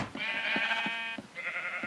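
A sheep bleats twice in the Minecraft video game, each call a nasal, wavering bleat with a short gap between them, close and clear over faint clicking.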